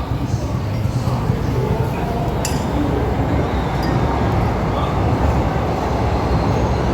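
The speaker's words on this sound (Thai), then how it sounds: "รถไฟสายสีแดงนะคะที่วิ่งอยู่" A steady rumble of a Red Line commuter train running nearby a Bangkok street market fills the scene with constant low noise, a faint metallic clink, and people talking underneath.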